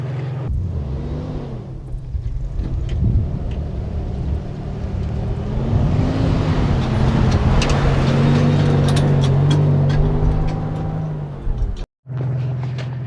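A car engine stuck in mud after Hurricane Hilary is revved hard to drive free, a loud sustained droning roar that wavers and rises in pitch before cutting out abruptly near the end.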